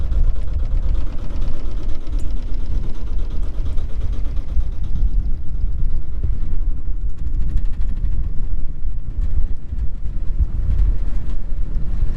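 A sailboat's motor runs steadily while motor sailing through a channel around Park Point, a continuous low engine drone with wind buffeting the microphone throughout and no talking.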